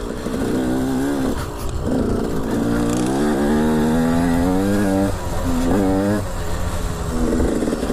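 Riding a KTM 125 SX two-stroke motocross bike, the engine screams loud and close, revving up and down in repeated surges as the rider works the throttle and shifts.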